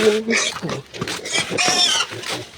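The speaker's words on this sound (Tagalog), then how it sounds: "magpapakain tayo ng baboy natin" A pig on a farm at feeding time, with loud, repeated grunts and squeals close by, mixed with a person talking.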